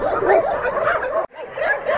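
Puppies and dogs at a rescue shelter yip and whimper in a dense, continuous chorus that breaks off for a moment, then resumes.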